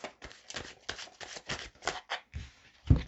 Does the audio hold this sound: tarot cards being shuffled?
yes